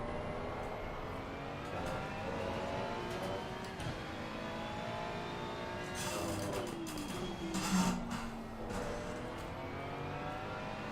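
Ferrari race car engine in the Assetto Corsa Competizione video game, revving and accelerating with rising and falling pitch through gear changes, steady and moderately loud with no talk.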